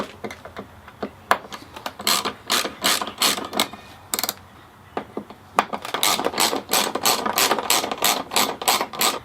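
Ratchet wrench removing the four stock windshield bolts on a Harley-Davidson Road Glide motorcycle, with rapid bursts of sharp clicking separated by short pauses, close and clear with no talking.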